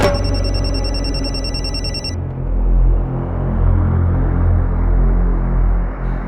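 A mobile phone rings loudly with an electronic ringtone for about two seconds, then cuts off, leaving a low rumbling room hum.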